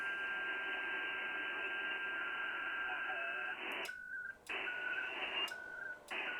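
Radio data transmission static while an email is being sent: a steady hissing tone that breaks into choppy bursts toward the end.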